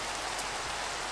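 Rain falls in Minecraft as a brief, steady broadband hiss of drops, even and unbroken, with no speech over it.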